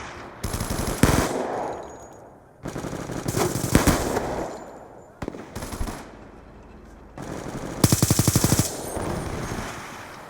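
Video game sniper rifle and automatic gunfire in several rapid bursts of shots, each followed by a short pause, moderately loud with no talking.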